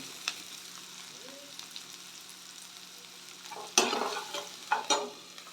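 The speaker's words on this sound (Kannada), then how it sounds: "ಬಟಾಣಿ ಸ್ವಲ್ಪ ಫ್ರೈ ಆಗಲಿ ಫ್ಲೇಮ್ನ ಮೀಡಿಯಮ್ ಇಟ್ಕೊಳ್ಳಿ" Fresh green peas frying and being stirred in a pan over medium flame for a peas and capsicum gravy, a low steady sizzle with a few louder scraping stirs near the end.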